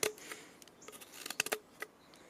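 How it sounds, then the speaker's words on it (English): A small knife cuts a notch, making a few faint, close scraping clicks and short crisp cuts scattered irregularly over a couple of seconds. "I use a smaller knife, and I just cut a notch out"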